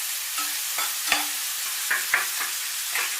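Onions sauté in a pan on the stove for an egg masala dosa, a steady bright sizzle. Several scraping strokes of a stirring spoon come at irregular intervals, close up, and no one speaks.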